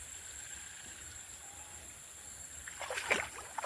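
Spring water seeps and trickles through a paddy field, a faint, steady flow that grows into a brief splashing burst near the end.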